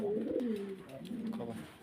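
Pigeons coo softly at a pigeon farm, two low rolling coos following one another, quiet and close, with no talking over them.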